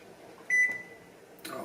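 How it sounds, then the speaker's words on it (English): A kitchen timer signals the end of a 45-minute boil during home beer brewing: a sustained electronic beep sounds, then a second beep starts just before the end, loud and close over a quiet room. "the timer is about to go off for my 45 minutes"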